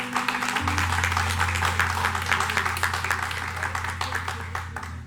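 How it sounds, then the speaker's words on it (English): Audience applause and clapping for musicians at a smooth jazz saxophone performance, a dense steady roar of many hands lasting throughout, with a sustained low hum beneath. "give them a round of applause"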